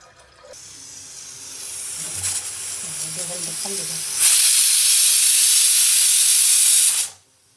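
A pressure cooker of chana dal hisses loudly as steam releases on its own after the gas is turned off, a steady rushing jet that swells midway, holds for a few seconds, then abruptly stops.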